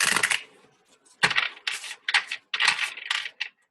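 A thick-stock tarot deck is riffle shuffled at close range, and each shuffle gives a short burst of flapping, clicking card noise between brief pauses.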